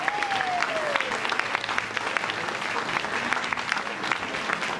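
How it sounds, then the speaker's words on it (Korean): Wedding guests give a steady, full round of applause in a ceremony hall as the couple and bridal party enter, a continuous crowd of clapping hands with a faint whistle-like tone early on. "들어올 때 이렇게 큰 박수로 이렇게 환영해 주시면 감사하겠고요"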